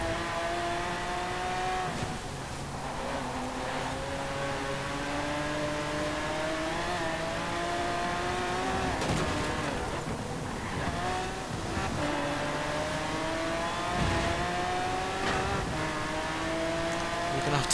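A Lamborghini Aventador races in Forza Horizon 4, its engine wailing continuously with rising and falling revs through gear changes, loud and close, with brief tire noise on corners.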